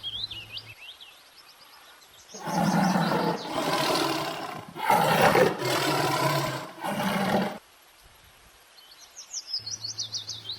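A deep, loud tiger roar in several rumbling bursts, with high chirping birdsong before and after in the quieter stretches.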